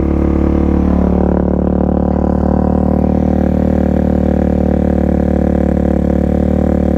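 A Suzuki DRZ400 motorcycle engine idles steadily close by, its idle speed raised by turning the idle screw, giving a continuous loud throbbing hum with a slight rise in pitch early on.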